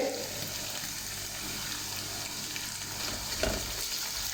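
Ground green chili paste frying in a pan for a potato, carrot and pea sabzi, a steady close sizzle and crackle with a wet, watery edge, moderately quiet and without talk.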